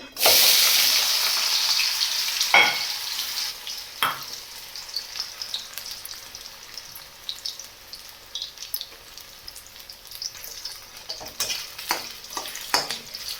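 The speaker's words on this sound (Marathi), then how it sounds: "आपलं तेल गरम झाल्यावर तर आपले बटाटे आपण आता याच्यामध्ये टाकणार आहे" Potato pieces dropped into hot oil for sabudana khichdi, a steady loud sizzle with bright crackling that settles into a continuous fry, marked by a few sharp stirring clinks along the way.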